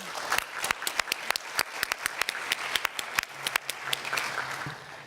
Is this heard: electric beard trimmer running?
no